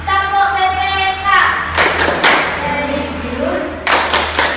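An Indonesian school class claps a rhythmic PPK routine, with sharp bursts of many hands clapping in time between sung or chanted voices.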